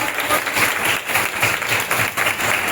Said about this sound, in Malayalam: എല്ലാവരും ഒന്ന് കൈയടിച്ച് നിങ്ങളുടെ സ്വാഗതം.